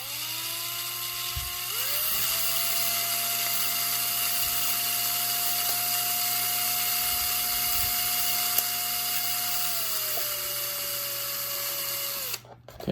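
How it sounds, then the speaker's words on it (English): A small power drill with a 1/16 inch bit whines steadily for several seconds at a high pitch, dipping slightly in tone near the end before stopping. "I got a 1/16 inch drill bit."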